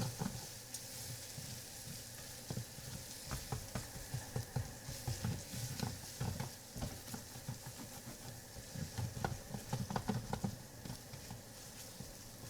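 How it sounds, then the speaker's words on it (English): Cold tomato paste frying in a hot pan for spicy pasta makes a close, bubbling sizzle broken by irregular crackles and spatters, with stirring scrapes throughout and no talking. "And I just fry. Because the tomato paste is cold too, it'll suck up most of the heat."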